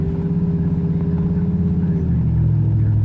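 A Chevrolet 2500HD truck with a swapped LS engine being driven, a loud steady low engine drone heard from inside the cab, its pitch dropping slightly near the end.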